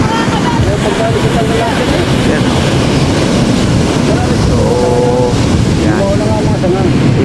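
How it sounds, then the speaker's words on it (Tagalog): Big waves and strong wind from a typhoon at sea make a loud, unbroken roar, with wind buffeting the microphone and someone speaking briefly over the din. "ang lalaki na ng alon oh"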